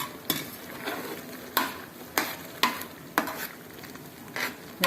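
White beans being stirred with jaggery in a pan over medium flame: a spoon scrapes the pan in repeated sharp strokes about every second over a soft sizzle, close and alone.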